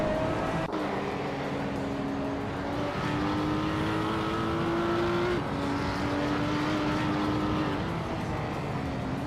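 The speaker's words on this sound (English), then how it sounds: "the race is underway at Castlecombe, and Zotsfired is starting on pole" Race cars in a racing video game set at the Castle Combe circuit, engines whining and climbing through repeated gear shifts in a steady, moderately loud drone with no talking over it.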